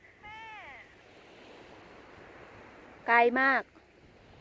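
Steady sea surf washes along a quiet beach on a cool, windy but sunny day, a continuous broadband rush with wind noise, while someone talks briefly over it near the start and end.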